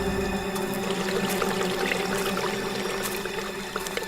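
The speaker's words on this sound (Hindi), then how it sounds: "ये पानी की आवाज आ रही है" Water flowing from a nearby pond, a continuous close pouring and trickling rush that stays steady and fairly loud throughout, with no speech over it.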